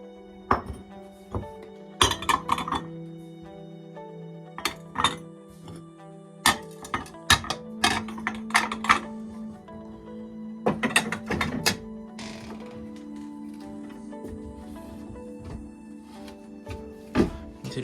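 Scattered sharp clinks and taps of dishes being handled, irregular and close, over a low steady hum.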